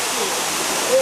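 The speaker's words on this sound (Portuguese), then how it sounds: "Aqui temos uma queda d'água do rio de águas sulfurosas que alimenta as termas." A waterfall on a sulphurous river feeding thermal baths pours in a steady, broad hiss, even and continuous, with a brief brighter tone surfacing at the very end.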